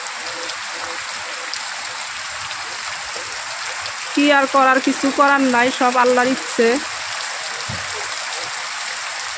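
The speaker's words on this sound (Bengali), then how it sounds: "দেখুন অনেকটাই বৃষ্টি হচ্ছে।" Heavy rain falls steadily outside in a continuous, even hiss that runs throughout, while someone speaks briefly over it midway.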